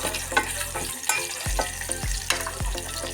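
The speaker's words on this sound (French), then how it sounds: "Je vais faire cuire un peu d'oignon" Chopped onion frying and sizzling in a hot pan while a broth of meat is prepared, with steady close sizzling and a few sharp stirring clatters of a utensil against the pan.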